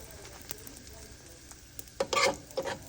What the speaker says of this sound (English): Just giving the other side a slight toast.